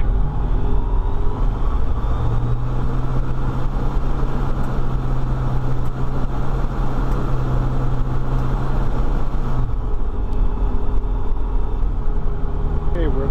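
A Sirius TL-3000 light aircraft engine runs up to 4,000 RPM, a loud, steady drone with a sustained hum that cuts off near the end, heard in the cockpit under a pilot talking.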